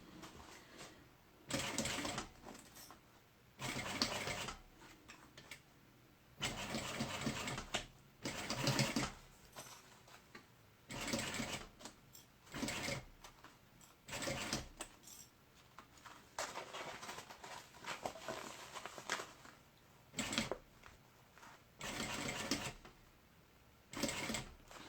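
A sewing machine stitching a mini backpack, running in repeated bursts of rapid mechanical whirring separated by short pauses, close and steady, with no talk.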